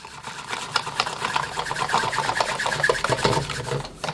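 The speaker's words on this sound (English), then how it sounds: "this is a secret technique of mine for whisking. You just get it and you go in between your hands like that" A whisk is spun rapidly between the palms while making gravy, giving a continuous close scraping, rattling whir that runs steadily throughout.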